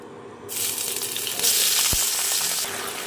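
Ginger paste drops into hot oil with fried whole cumin and erupts into loud, steady sizzling, with a brief clink of stirring partway through.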